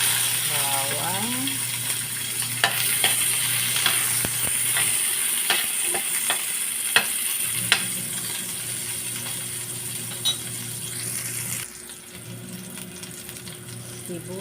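Garlic and onion sizzle in a hot pan for chicken adobo sa gata, a steady frying hiss broken by scraping and clattering stirring strokes, with a low hum underneath and no voices.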